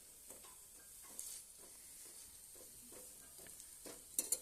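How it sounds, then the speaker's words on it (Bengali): Food fries in a pan until browned, a quiet, steady sizzle broken by soft stirring scrapes and a couple of sharp pops near the end, with no speech. "এগুলো লাল করে ভাজতে হবে, একটু বেশি টাইম লাগে ভাজতে।"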